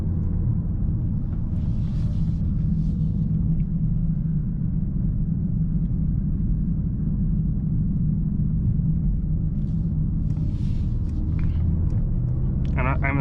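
A 2024 Mercedes-AMG S63 V8 sedan with a particulate filter drones and rumbles steadily from inside the cabin as it runs up through the gears, with a brief rise in revs near the end.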